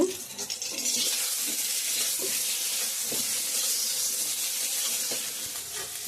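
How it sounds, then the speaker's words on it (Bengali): Slices of pointed gourd (potol) frying in oil, a bright steady hiss with faint crackling and a few soft knocks, continuous and fairly close, without talking. "পটল ভাজা করছি বন্ধুরা দেখতে পাচ্ছ"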